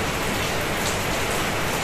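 Steady rain falls hard and close, a dense unbroken patter on surfaces with no voices.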